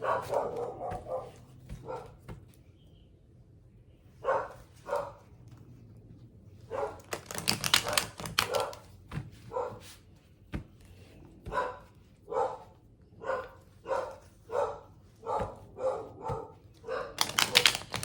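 A dog barks repeatedly indoors in a fairly steady rhythm of sharp barks, moderately close but not loud, with a quiet room tone between barks.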